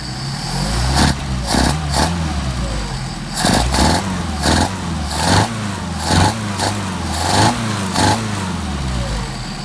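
A Mercedes 190SL engine on Solex 44PHH carburetors idles steadily and close, with a rough rhythmic throb broken by recurring louder pulses roughly every second.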